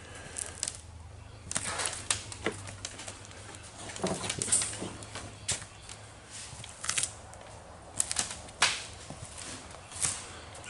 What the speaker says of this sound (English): this decking is really soft. You can hear it.